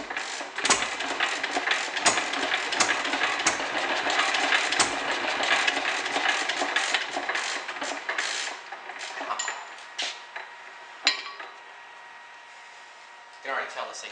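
A 1929 Fairbanks Morse Z hit-and-miss engine fires up after two years idle, its irregular chuffing and popping running loud and close before easing into sparser, uneven beats.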